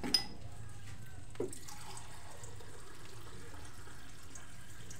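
Water runs steadily from a tap or is poured into a drinking glass indoors in a home kitchen, a continuous soft liquid flow with a couple of brief clinks near the start.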